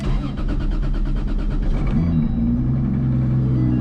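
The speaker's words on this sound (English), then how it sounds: "Let's see how the cold start is." A Chevrolet C4 Corvette drift car makes a cold start close up: a rhythmic starter crank for about two seconds, then the engine catches and settles into a steady, low rumbling idle, with no talking.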